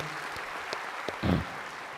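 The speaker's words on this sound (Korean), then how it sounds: "환영의 박수 해 주시면 고맙겠습니다" Worshippers at a thanksgiving service marking 70 years of the Korea–US alliance offer welcoming applause, faint and distant, with scattered claps and a brief swell of clapping near the middle.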